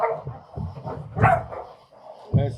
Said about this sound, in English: See, that's that cur dog right there.